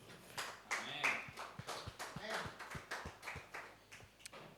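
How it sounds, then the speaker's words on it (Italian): A church congregation applauding, a quick run of uneven claps, fairly faint and close, with some talk mixed in. "Potete sedervi dando un applauso al Signore"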